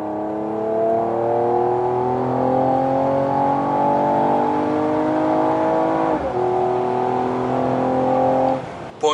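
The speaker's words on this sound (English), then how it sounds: "Point of view test drive of the AMG E53 4MATIC Plus." A 2020 Mercedes-AMG E53 4MATIC+ engine is heard from inside the cabin on a test drive, a smooth steady hum that climbs in pitch through gears, dips briefly at a shift, then climbs again, ending with a small bump.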